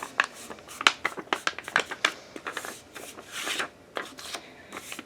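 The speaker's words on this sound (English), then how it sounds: "So here I have a stack of about 5 to 7 pieces of regular computer paper. Fold it in half." Several sheets of ordinary computer paper, about five to seven stacked together, are folded in half, giving a run of close, crisp rustles and creases with quick handling taps, with no talking.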